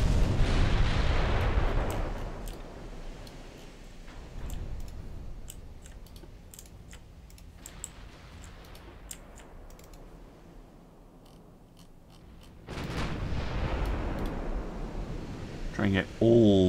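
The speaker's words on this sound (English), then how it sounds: "Try and get all the guns firing." Naval gunfire from warships in the Ultimate Admiral Dreadnought game: booming broadside blasts at the start and again near the end, with scattered sharp reports and a low rumbling in between.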